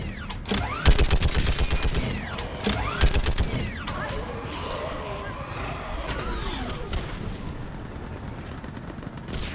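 Video-game gunfire from Mass Effect: repeated sharp shots and bursts in the first few seconds, some with ringing sweeps, settling into a busy mechanical rumble with scattered shots, loud and close.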